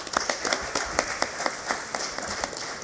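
At a parliamentary assembly session, an audience applauds the president with a short burst of clapping, loud and close, with distinct individual claps standing out in a loose, uneven rhythm.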